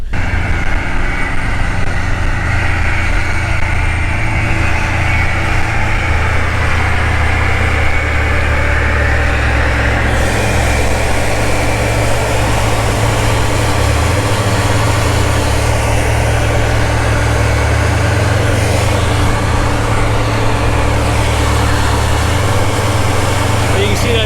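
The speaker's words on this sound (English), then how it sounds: "the tractor just started up again" A tractor engine runs steadily nearby during an organic pea harvest, a low droning rumble with a constant hum that holds throughout, shifting slightly in tone partway.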